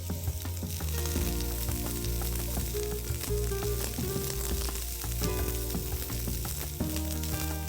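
Three small onions fry in a little oil in a pan, giving a continuous sizzle that sits under louder background music.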